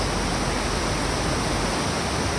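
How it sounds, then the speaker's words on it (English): Steady, dense roar of rushing water from waterfalls along a stretch of the Appalachian Trail, a constant broadband wash with no breaks or voices. "Ooh, them waterfalls are cool."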